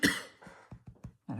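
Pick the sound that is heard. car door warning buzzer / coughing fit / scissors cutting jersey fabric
coughing fit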